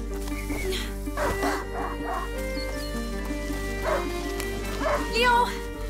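A hunting dog in the video game A Plague Tale: Innocence barks and yips repeatedly at mid distance over a steady game soundscape, with voices talking at times.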